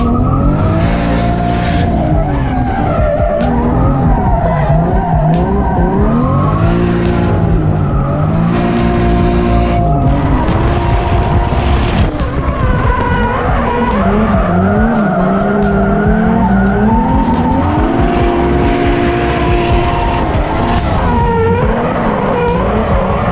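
A car drifts on Mucho Macho Cosmo tires, engine revving up and down loudly while the tires squeal in long, wavering screeches across the whole stretch, close and continuous.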